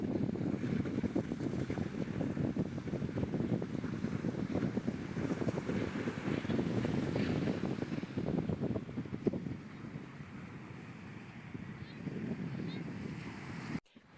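Seaside ambience on an afternoon beach, with steady wind buffeting the microphone and surf washing in the background, continuous and fairly loud before easing slightly near the end.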